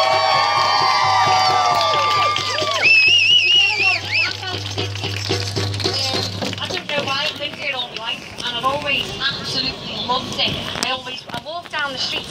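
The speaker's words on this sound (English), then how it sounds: "Give yourselves a fucking round of applause." A large crowd at a Liverpool political protest rally against the DUP cheers and applauds, with whoops, whistles and shouts rising over the clapping, and voices calling out through the noise.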